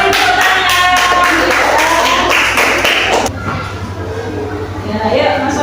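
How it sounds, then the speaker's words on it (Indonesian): Students in a classroom clap together for a short stretch, with taps and thumps mixed in, then the clapping thins out while voices talk over the room noise. "Beri tepuk tangan."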